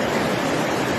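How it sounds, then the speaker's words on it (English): Steady, loud rush of moving water flowing continuously, a dense broadband wash with no pauses or other sounds. "Just like this moving water"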